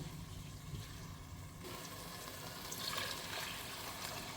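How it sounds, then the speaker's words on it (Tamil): A quiet, steady rush of water pours into a cooking pot, three cups filling with a soft continuous splashing and faint background noise. "3 கப்பு தண்ணி விட்டேன்."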